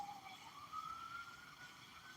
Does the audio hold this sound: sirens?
yes